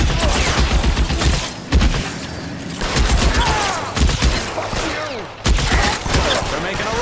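Shootout in the video game L.A. Noire, with loud volleys of rapid gunshots arriving in repeated bursts separated by brief lulls, close and sharp.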